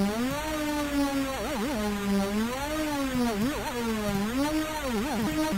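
Surge synthesizer voice with a sample-and-hold LFO driving its pitch, a slow swooping bend punctuated by quick fluttering trills that recur every couple of seconds, sustained and alone.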